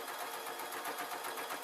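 A sewing machine runs steadily along a white double line on fabric for a skirt, its needle a fast, even rapid chatter, close and constant with no voices.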